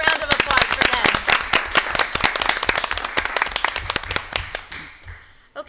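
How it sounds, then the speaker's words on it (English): Audience at a Caldwell-West Caldwell Board of Education public meeting breaks into applause, a dense patter of claps that holds steady for several seconds before thinning and fading out near the end. "One more round of applause for them."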